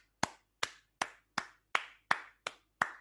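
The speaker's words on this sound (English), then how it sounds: "I clap for you." One person claps their hands eight times at an even, unhurried pace, each clap sharp, close and dry with a short tail and silence in between.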